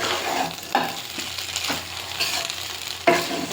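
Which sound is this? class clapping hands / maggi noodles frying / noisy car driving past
maggi noodles frying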